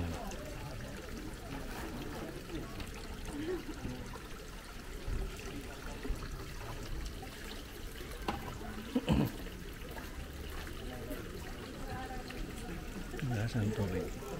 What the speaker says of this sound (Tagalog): umaagos na tubig